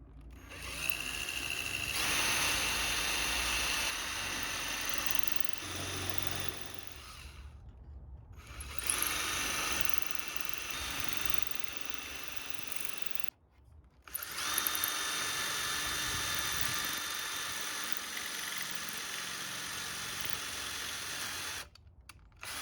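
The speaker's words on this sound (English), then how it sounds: "use a jig to drill the corresponding holes" Drill boring dowel holes in plywood panels with a guide jig, running steadily in long loud stretches broken by two brief stops, with a faint ratcheting edge.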